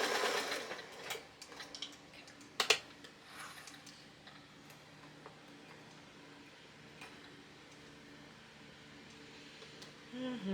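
A home sewing machine runs rows of basting stitches with long tail ends for a 1950s-style one-yard top, a quiet, steady mechanical whir with light ticking and a brief louder clatter partway through, no talking.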